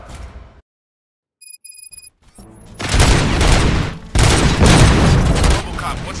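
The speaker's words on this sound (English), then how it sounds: "Gunshots? What's going on?" Gunfire in the Robocop Rogue City video game, with loud, dense bursts of shots and booms following a brief quiet stretch with electronic tones, alongside speech.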